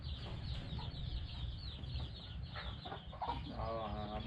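Village hens in a coop in a rural hamlet, some laying and some brooding, cluck softly and intermittently nearby, with a few louder rising calls near the end over low background rustling.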